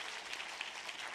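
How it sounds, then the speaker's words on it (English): Brief burst of audience applause at a conference session, a dense hiss of many hands clapping at moderate volume with no voices on top. "Warm applause, please."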